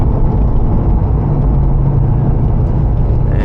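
Lamborghini Diablo rolling through a neighborhood at low speed, a steady close engine rumble with a continuous low drone and no clear revs, loud and unbroken throughout.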